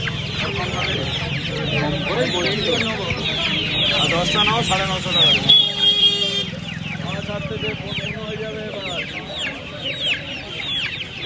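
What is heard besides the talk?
silkie chickens clucking at a market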